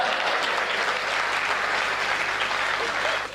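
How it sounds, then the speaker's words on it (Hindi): Loud, dense applause from a large Hindi comedy show audience, a continuous wash of clapping holding steady for several seconds before tapering at the end. "नहीं लग रहा तो एक बार तालियां ठोक के बताइए।"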